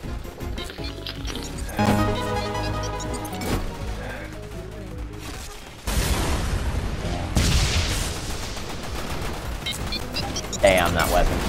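Weapon fire and missile blasts in the Chicken Gun video game, a dense run of shots and booms with a sharp burst near the end, loud over game music and chatter.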